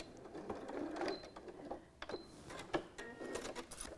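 A sewing machine backstitches over the first few stitches of a quilt binding, making faint, short bursts of clattering stitching separated by brief pauses.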